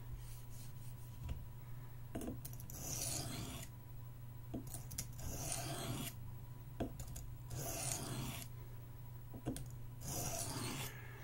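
A Buck 110 folding knife is sharpened to a new bevel angle: rhythmic rasping strokes of the blade on a stone come in regular bursts about every two seconds, close and steady over a constant low hum.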